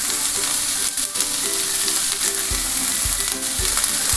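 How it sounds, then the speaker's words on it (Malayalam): Medium-size sliced onions sizzle and fry with salt in a hot pan, cooking down toward brown, with a steady hiss and occasional scraping stirs. No one speaks. "അപ്പോൾ ഇത് ഒരു നല്ല ബ്രൗൺ നിറമാകുന്നവരെ നമുക്കൊന്ന് മൂപ്പിച്ചെടുക്കണം."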